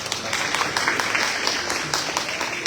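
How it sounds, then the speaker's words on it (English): An audience at a town hall meeting claps for the next speaker, a dense burst of applause throughout, with voices mixed in. "Come on, give him a round of applause."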